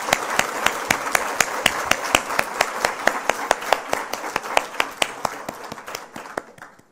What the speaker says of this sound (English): Let's have a resounding round of applause.